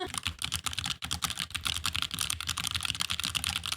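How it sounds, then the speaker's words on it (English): Rapid, continuous typing on a Roccat Vulcan computer keyboard, close and crisp, with dense irregular key clicks and clacks and a brief pause near the start, no voices. "This one is going to be the sound of my current keyboard."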